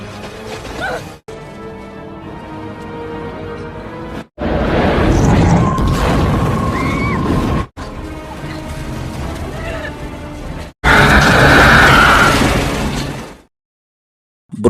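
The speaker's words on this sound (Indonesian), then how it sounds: "Beruntung Flores berhasil selamat dari ledakan tersebut." Explosion from the 1997 film Anaconda as a fire blast erupts in an exhaust chimney, heard as loud rumbling bursts in several long roaring segments broken by brief cuts, with dense mixed film sound and no clear speech.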